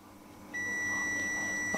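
A multimeter's continuity buzzer beeps as the probes touch a low-value resistor, a single steady electronic tone that starts abruptly and holds, close and clear over faint background hum.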